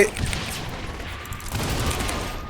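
Rapid bursts of gunfire in the video game Saints Row: The Third Remastered, dense and continuous over a couple of seconds, with no talking.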